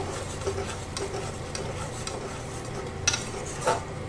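Ground coriander-leaf paste sautés and gets stirred in a pan for a pabda fish dish, a steady low sizzle under occasional scrapes of a spoon, with a couple of sharper clinks near the end.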